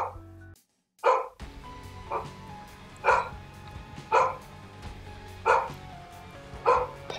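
Neighbors' dogs barking outside, about six separate woofs spaced roughly a second apart at moderate distance, over low indoor background hum.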